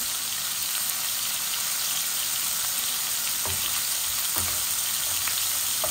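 Small-cut hilsa fish heads fry in a pan of oil, giving off a dense, continuous, close sizzle with a few faint clinks and no talking.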